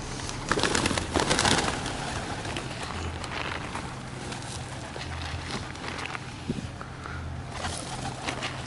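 Pigeons coo at St Thomas Church in Ryde, a low repeated cooing over steady outdoor background with brief flutters and scattered bird noise.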